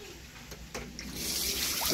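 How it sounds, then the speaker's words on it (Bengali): Cut pieces of small pond rohu fish being rinsed in water: a faint, steady sloshing and trickle that slowly grows louder over a couple of seconds, with no talking. "দেখো মাছটা কেটে নিয়েছি, এইবার আমি ভালো করে ধুয়ে নেব"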